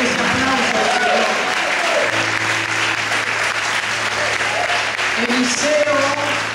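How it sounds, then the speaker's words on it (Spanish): A church congregation at a Costa Rican worship service claps loudly and continuously throughout, with faint voices and a sustained musical tone under the dense applause. "Fuerte ese aplauso al Señor."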